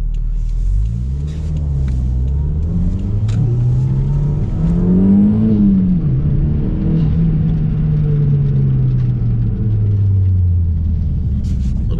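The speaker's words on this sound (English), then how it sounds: "Little turbo noises." Engine of a 1994 Toyota MR2 GT with a Revision 3 turbo revving close up, its steady loud rumble rising and falling in pitch over several rev swings, with faint turbo whirs and whooshes above the drone.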